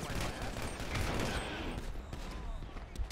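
Dense, sustained gunfire in GTA V during a gang shootout with the Vagos, overlapping shots crackling from several directions without pause, loud and continuous throughout.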